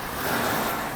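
A modified vehicle's engine reversing, a brief, steady broadband rumble heard close up and fairly loud, with no talking.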